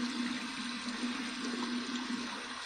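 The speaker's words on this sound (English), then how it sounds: "So we're going to run this under some cold water." A steady hiss of cold tap water runs continuously as an alum block is rinsed under it, a close, even rush without pauses and with no talking.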